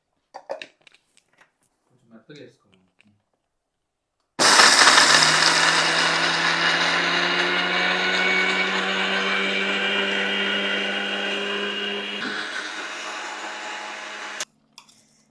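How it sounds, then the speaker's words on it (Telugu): Mixer grinder whirring as it pulverises roasted dry mutton spices and garlic, a loud steady motor drone starting abruptly after a few faint clicks, shifting pitch briefly near the end, then cutting off. "బాగా మెత్తగా మిక్సీకి పట్టేసుకుందాము"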